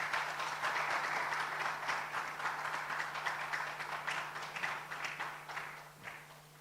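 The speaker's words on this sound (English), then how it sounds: "Ladies and gentlemen, with a warm round of applause, let me welcome Philip Kofi Ashon." An audience at a World PR Day celebration gives a warm round of applause, dense steady clapping that tapers off gradually over several seconds, with no voices over it.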